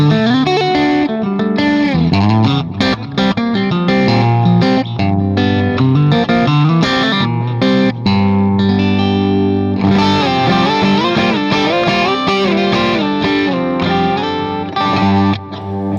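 A loud, distorted Paoletti Richard Fortus signature electric guitar plays thick, sustained chords and melodic runs continuously, with heavy low end and effects coloring the tone.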